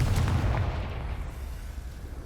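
A Confringo fire spell explodes in Hogwarts Legacy, a deep rumbling boom that fades slowly over a couple of seconds, loud and dense, with no talking.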